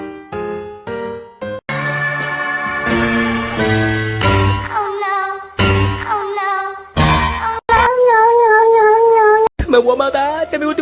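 A cat meows and caterwauls in a run of drawn-out, wavering cries, loud and close, separated by short pauses, with faint tinkling in the background.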